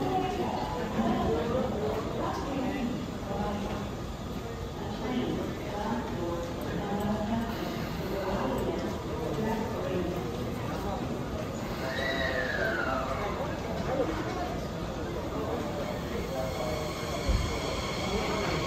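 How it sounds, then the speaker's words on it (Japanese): A limited express train bound for Ujiyamada departs the station, rumbling and clattering steadily, with a brief rising squeal of wheels partway through and a station announcement voice in the background. "宇治山田行き特急火の鳥が発車します。"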